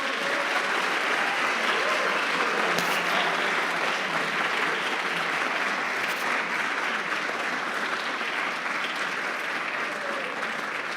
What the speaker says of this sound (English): can we give a big round of applause to...